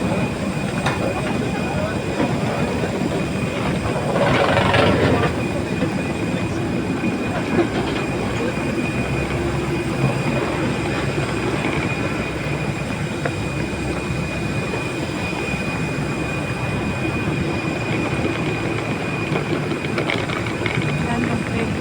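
Train rolling past with clattering wheels and a burst of wheel squeal near the start, a loud continuous rumble close by, with people talking faintly underneath.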